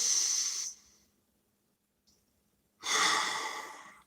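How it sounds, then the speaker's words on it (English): A slow, deep breath in and out, two broad breathy swells separated by a pause of near silence, close and fairly loud with no talking. "Take a nice deep breath"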